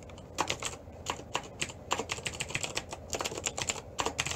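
Fast, steady clicking of a computer keyboard, close and moderately quiet, keys tapped in quick bursts with no talk over it.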